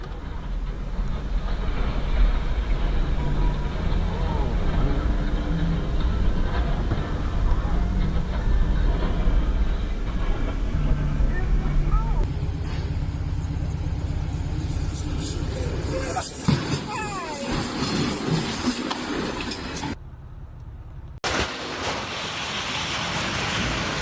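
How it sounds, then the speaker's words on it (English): A speeding passenger train in Salt Lake City strikes a FedEx truck and tears it in half: a heavy, continuous roar of rail and metal, cut abruptly into several segments with a sharp jolt partway through. "A FedEx truck is ripped clean in half by a speeding passenger train."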